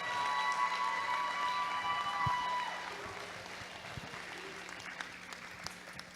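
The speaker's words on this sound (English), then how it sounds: "Can you give them a round of applause?" An audience at a robotics competition closing ceremony applauds the team. The clapping is fairly quiet and dense, strongest over the first couple of seconds, then thins into scattered, fading claps.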